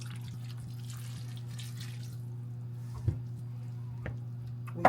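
Water is poured into a cooking pot that already holds stick butter, a steady running trickle with a couple of soft clinks, close and moderate over a constant low kitchen hum.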